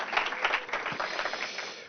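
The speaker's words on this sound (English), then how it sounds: "I'll like a big round of applause for Don Juan Gonzalo Cabrera" A conference audience at an animation event opening applauds the Managing Director of Culture and Industry of Madrid's regional government, a steady, dense round of clapping from a hall full of people.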